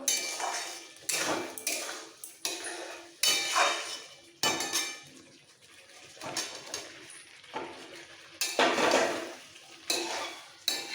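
A spoon scrapes and knocks against a pot while jackfruit curry is stir-fried with yogurt, giving close, repeated metallic clanks and scraping bursts separated by short pauses.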